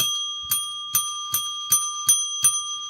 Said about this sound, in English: I think I got 7 bell rings out of that one.